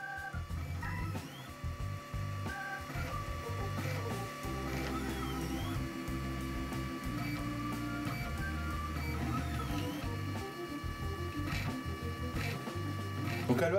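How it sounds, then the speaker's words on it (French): A Dagoma Neva 3D printer probes its print bed, giving stepper-motor whirs and buzzes in short rhythmic bursts with small clicks, close and steady, and no voices. "elle palpe pour venir contrôler le contact avec le plateau"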